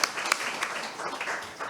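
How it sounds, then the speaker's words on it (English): A conference audience applauds after a presentation on EU textile legislation, a short burst of steady clapping at moderate distance. "One more round of applause for Mr. Scalia"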